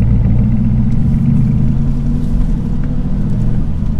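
A twin-turbo C8 Corvette in sport mode pulls away with a loud, continuous low engine rumble, heavy and steady throughout with no voices over it.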